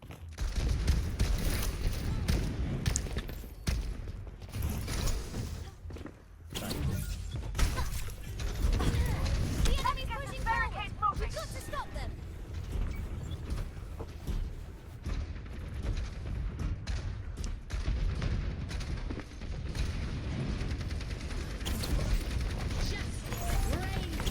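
Rapid, booming gunfire and artillery-like blasts from a barrage ultimate in Overwatch 2 roll on steadily under the general clatter of a team fight, fairly quiet and continuous throughout.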